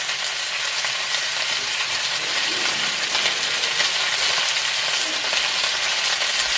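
Black pepper steak pieces sear in a hot pan and are pushed around with a spatula, a steady bright sizzle with faint scraping and stirring, close and alone.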